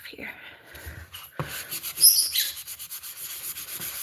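Soft rubbing with a magic eraser in circular motions against a scuff mark on a household surface, faint irregular scrubbing strokes close by, growing louder midway.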